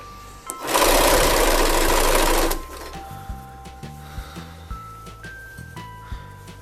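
A sewing machine runs a seam along a t-shirt dress for about two seconds in one loud, close burst of steady whirring, then stops, followed by quieter clicks and handling noises.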